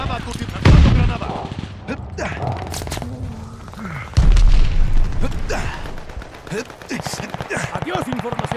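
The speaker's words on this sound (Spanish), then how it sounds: "¡Lanzo una granada a tu tierra!" A grenade blast in Call of Duty Vanguard on Xbox Series X, two heavy booming thumps among scattered gunfire and a busy game soundscape, with a voice talking over it.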